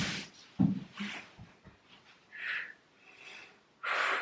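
A person breathes hard during a pilates hold, heavy sharp exhales and snorting gasps in uneven bursts, close to the microphone with quiet gaps between breaths and no speech.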